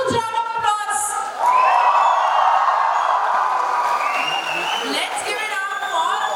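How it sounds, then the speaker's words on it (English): An evening audience at a live onstage conversation session roars with sustained cheering, whoops and applause, a dense crowd wash that swells after a brief quieter start and holds loud throughout. "Can we have a huge round of applause?"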